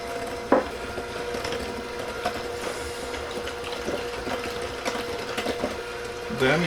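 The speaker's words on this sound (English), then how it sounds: "mix it for about 2 minutes at least till it thickens up" An electric hand mixer whirs steadily while beating vanilla pudding for a marble pie, a continuous motor hum with a sharp knock early on and light clatter against the bowl.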